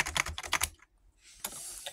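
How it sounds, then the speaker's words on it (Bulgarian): Computer keyboard keys typed in quick, close clicking bursts in a bedroom, with a brief pause before another short flurry of taps. "Тук нали ми е клавиатурата."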